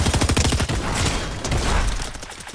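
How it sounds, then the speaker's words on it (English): Shotgun fire in the video game Fortnite: a quick, loud burst of repeated gunshots, dense at first and then tapering off over under three seconds, with no talk. "Your friend is shooting somewhere."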